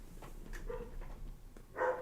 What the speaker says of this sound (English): I don't know if you guys can hear my dog barking